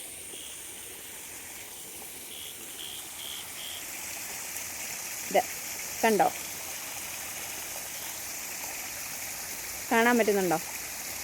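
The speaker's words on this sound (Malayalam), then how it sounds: "ഇതാണ് ഞങ്ങളുടെ വെള്ളച്ചാട്ടം." A small waterfall that flows only when it rains gives a steady broadband rush of falling water throughout, with a few short bursts of nearby speech over it.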